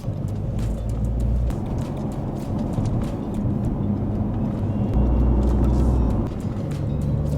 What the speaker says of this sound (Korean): 돌이 차체 밑에 튀는 소리야?